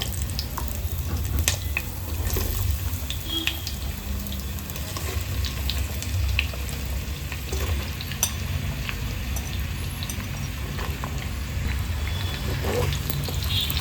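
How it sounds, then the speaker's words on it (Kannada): Spiny gourd pieces fry in hot oil on medium heat, giving a steady, close sizzle with soft crackles and occasional stirring scrapes throughout. "ಮಧ್ಯಮ ಉರಿಯಲ್ಲಿ ಒಂದು 5 ರಿಂದ 10 ನಿಮಿಷ ಫ್ರೈ ಮಾಡ್ಕೊಳ್ಳೋಣ"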